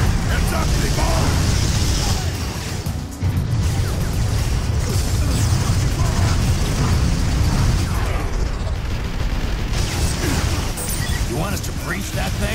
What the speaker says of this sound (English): Cannon fire incoming!